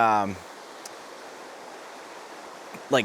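Moshannon Creek, a polluted stream on the Allegheny Front Trail, flowing with a steady broadband rush of water that holds evenly throughout, with brief bits of voice at the start and end.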